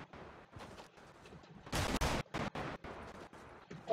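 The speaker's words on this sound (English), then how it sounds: "Those shots are like really close." Gunfire rattles in a Fortnite battle royale sniper shootout, a distant-sounding volley followed by a loud, close burst and several more uneven shots in quick succession.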